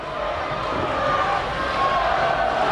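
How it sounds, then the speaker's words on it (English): Sacred Heart fans roar at a high school basketball game in a gym, a loud, dense crowd cheer swelling slightly over a few seconds with voices blended in. "the Sacred Heart cheering crowd now"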